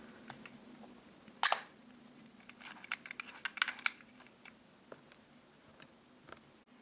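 A FED-2 rangefinder camera shutter firing at a slow 1/25 second speed, one sharp loud click, followed by softer mechanical clicks and ticks of handling the camera in a quiet room.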